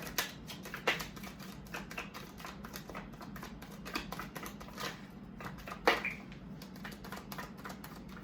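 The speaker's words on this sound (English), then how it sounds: "I'm gonna do one more shuffle." Soft, rapid riffling and light taps of tarot cards being shuffled close by, in short bursts with a couple of sharper snaps.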